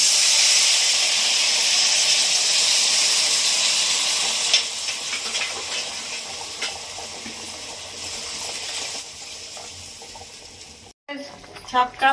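Papaya curry with water and turmeric bubbling in a pan, a steady hiss and simmer running for about eleven seconds before a short pause and a few clinks near the end.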